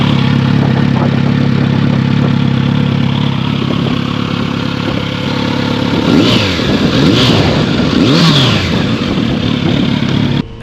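Kawasaki Z900RS retro roadster engine running loud and close, with a steady rumble and a few sharp revs blipping up and back down near the end.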